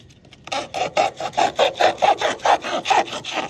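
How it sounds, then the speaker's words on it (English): Rhythmic back-and-forth sawing of a serrated knife through cardboard, a loud raspy scrape repeating about every quarter second, close by. "They saw through cardboard really well."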